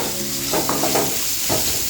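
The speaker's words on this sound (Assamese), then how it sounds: "পেষ্টটো এড কৰি পেলাই ভালকৈ ভাজিম 1 মিনিটমান" A roasted peanut paste fries with eggplant in a pan, giving a close, steady sizzle with a few stirring scrapes and bursts of hiss, with no talking.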